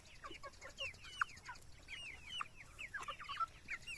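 Young native hens and a rooster clucking on a rural Philippine farm, a steady stream of short chirpy clucks and calls at close to moderate range with no talking.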